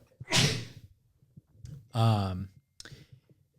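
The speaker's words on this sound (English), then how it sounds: "Excuse me, I gotta sneeze." A single sneeze: a sharp, breathy burst, then a short voiced sound, with a quiet pause between.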